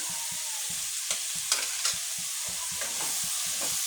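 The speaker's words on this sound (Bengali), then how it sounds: "এখন আমি এটাকে ভালোভাবে কষিয়ে নেব।" Dried fish curry with chili powder is stirred and fried in a pan. A steady sizzle runs under rhythmic scraping strokes, about three per second, with a few sharper spoon clinks.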